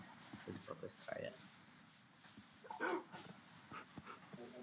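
Dogs in Minecraft bark and whimper in short yips, close and fairly clear, while people talk over them.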